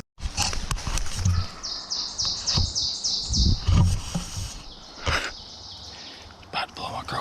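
Wild turkey gobbling in a Vermont field during spring turkey season, answering a crow call, heard at a distance amid rustling and handling noise with a quick rattling burst of gobbles.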